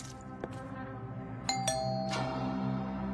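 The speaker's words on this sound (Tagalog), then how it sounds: "Pinagbuksan ng katulong sina Beauty at Val matapos silang mag-doorbell" Doorbell at a house rings with two bright chime tones in quick succession, followed by a third fainter ding, fairly quiet over low background hum.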